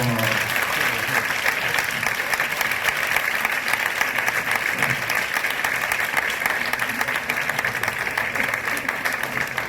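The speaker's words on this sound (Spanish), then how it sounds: "con esto yo creo que se merece un aplauso, Borja," An audience applauds after a talk on inequality, with sustained, even clapping that is fairly loud and continuous for about ten seconds. Faint voices sit beneath it.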